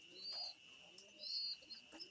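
Pigeons kept out in the sun give soft, faint cooing calls in a few short bursts, quiet and close against a thin steady hum.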